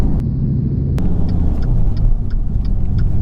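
A Dodge Viper drives with a deep, loud engine rumble filling the cabin, a steady low drone with a few sharp knocks early on and faint tonal chirps over the roar.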